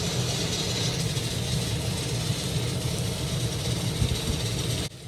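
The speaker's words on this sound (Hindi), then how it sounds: "आप लोगों को बैकग्राउंड में कुकर चलने की आवाज़ें आ रही होंगी" A pressure cooker runs in a home kitchen while kebab masala cooks, a steady hissing and rumbling background that stays even and moderately loud throughout before cutting off abruptly at the end.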